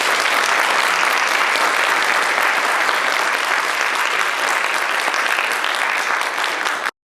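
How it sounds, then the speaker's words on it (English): A large crowd applauds loudly and continuously, a dense wash of clapping that stops abruptly at the end. "I would like you all to give him a big round of applause"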